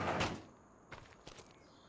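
Shed door opening in a logging video game: a loud creaking scrape at the start, followed by a few lighter clunks and thuds, alone with no talk.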